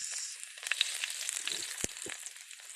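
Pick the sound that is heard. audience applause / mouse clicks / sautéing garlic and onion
sautéing garlic and onion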